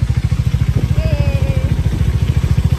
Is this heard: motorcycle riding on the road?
yes